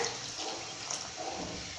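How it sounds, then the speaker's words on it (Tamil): A steady stream of water pours and splashes into a pan of tomato bajji curry at close range, continuous and even. "தக்காளி பஜ்ஜி கடையலுக்கு தேவையான அளவு தண்ணி சேர்த்துக்கிறேன்."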